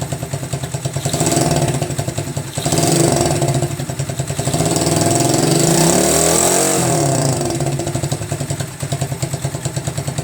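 A motorcycle engine idles in neutral at about 5% throttle, running steadily and loudly up close with a continuous rumbling drone and a slight rise and fall in the middle.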